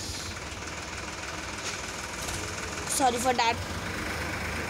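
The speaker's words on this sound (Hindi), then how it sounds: "वो जो अजीब सी आवाज़ थी वो ट्रैक्टर की थी" A tractor engine runs nearby as a low, steady, vibrating rumble that persists throughout, while someone briefly speaks over it partway through.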